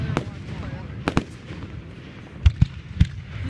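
Fireworks at a high school celebration in Mentor: several sharp bursts at the start, then a cluster of loud booming pops near the end over a steady crowd murmur with voices in the background.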